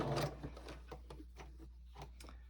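A sewing machine stitches binding onto a gingerbread star table topper, a soft series of quick rhythmic needle taps over a low steady motor hum, fairly quiet after a brief louder burst at the start.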